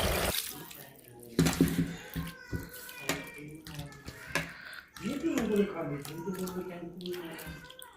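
Food being washed by hand under a running tap, a steady stream of water splashing into a vessel with sloshing and rubbing, while a person talks over it throughout.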